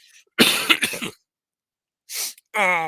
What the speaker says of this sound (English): And one cough alert.